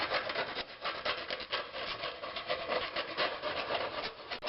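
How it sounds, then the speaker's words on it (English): A file rasps across the end of a steel brake line to bevel its edge for a double flare splice, a steady close scraping of repeated strokes with no talk. "we have to bevel this edge."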